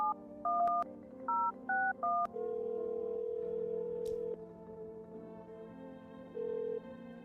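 Phone being dialed in the video game No I'm Not Human, a quick run of several keypad tones in uneven rhythm followed by a long steady ringing tone, clear and alone with no talk.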